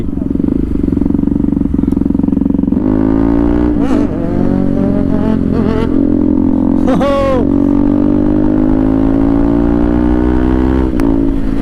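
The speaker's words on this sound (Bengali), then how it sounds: "ও ভাই পুরো খাড়া করে দিয়েছে হুইলি মেরে।" Motorcycle engine revving hard during a wheelie, a loud, sustained drone with rising and falling pitch sweeps and sharp throttle bursts, under excited shouting from nearby riders.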